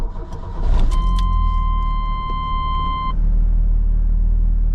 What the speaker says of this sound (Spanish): Voy a arrancar la camioneta y vamos a ver qué es lo que sucede